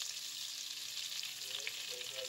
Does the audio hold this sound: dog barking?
no